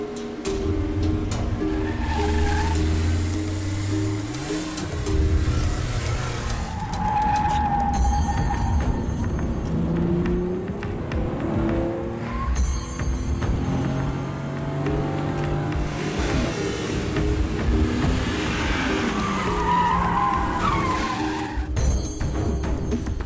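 Car driving forward, with tyre skidding and a rising engine note running continuously and loud over layered film music and effects.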